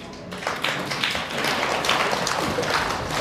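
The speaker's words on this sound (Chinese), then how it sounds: "听见这个怜悯的掌声了吗？" A theatre audience at a Deyunshe crosstalk comedy show gives thin, scattered applause, a few loose claps spread across the moment with a soft crowd murmur beneath.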